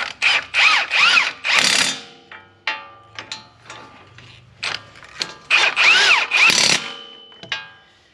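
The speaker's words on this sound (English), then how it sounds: "Then we're going to put a torque wrench on them." A ratchet tightens the front wheel bearing bolts on a Ram 2500 in a series of close, sharp clicking bursts. Short pauses and lighter metallic ticks come between the runs, and no one talks.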